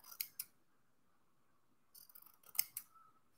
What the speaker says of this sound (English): So I'm going to cut a few of these pieces.